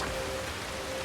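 Steady rain pours down in a war-ravaged Japanese setting in a video game, a dense, even hiss of falling drops with no breaks across the short stretch.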